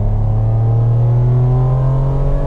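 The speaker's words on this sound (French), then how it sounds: "En fait, le moteur à 4000, il a une deuxième personnalité." Ferrari 550 Maranello V12 engine revving, a loud close rising drone that climbs steadily in pitch as it accelerates, heard alone without talk.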